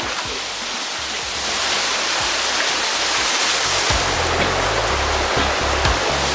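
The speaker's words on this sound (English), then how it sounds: "We're gonna start walking in the water, so we gotta walk upstream." Rushing water in a jungle stream while someone wades upstream through it, a loud, steady broadband roar with occasional low splashes and thuds of steps, no voices.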